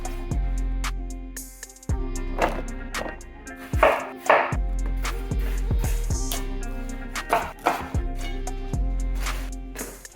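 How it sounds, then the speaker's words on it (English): A knife dices stemmed mushrooms laid flat on a cutting board, a steady run of crisp chops over continuous background music, close by. "To dicing mushrooms, I just break off the stem and then I lay them flat and it's easier to cut."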